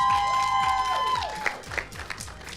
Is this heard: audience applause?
yes